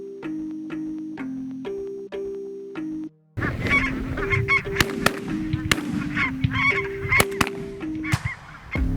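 Geese during a Saskatchewan waterfowl hunt honk in steady repeated calls, first a clear close honking, then a denser, louder chorus of many birds with scattered sharp bangs mixed in.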